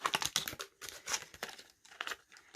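Adhesive tape pulled off a roll for window-cling wall art, heard as a series of close, sharp crackling rips and crinkles in uneven bursts, with no talking.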